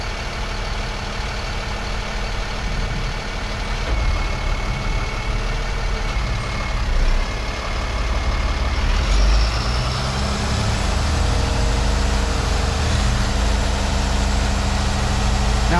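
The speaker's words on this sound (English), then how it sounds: "Here we'll engage our hydraulic system" Heavy vehicle engine idling with a deep, steady rumble as its hydraulic system engages, the drone shifting slightly in pitch with a brief rising whine partway through; continuous and close, no talk.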